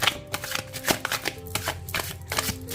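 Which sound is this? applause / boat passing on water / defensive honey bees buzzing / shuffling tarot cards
shuffling tarot cards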